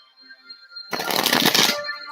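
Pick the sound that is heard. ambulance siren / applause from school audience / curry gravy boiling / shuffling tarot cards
shuffling tarot cards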